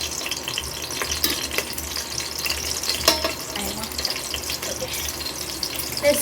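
Biryani ingredients fry in a pot and are stirred, giving a continuous close sizzle broken by scraping stirs, with a faint watery trickle in the background.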